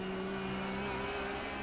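A Porsche Carrera Cup race car at Spa-Francorchamps holds a steady, loud engine drone with a constant pitch, heard close as if on board, with no voices.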